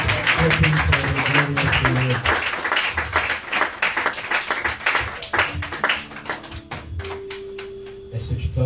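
A church congregation clapping and acclaiming the Lord, dense rhythmic hand claps that continue throughout, mixed with crowd voices and cheering, loud and close.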